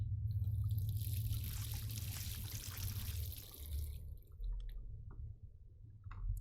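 Water runs from a tap in Life is Strange as a steady, moderately close hiss of flowing water that thins out and fades over the second half, leaving quiet drips and small clicks.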